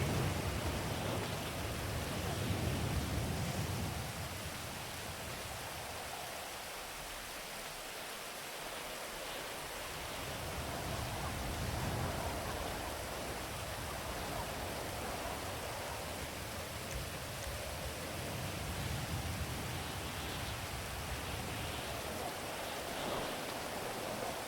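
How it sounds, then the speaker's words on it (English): A rainstorm roars on continuously, a thick, loud wash of falling water that swells and eases slightly over time, with no other sounds standing out. "Oh, it's a storm, not just rain."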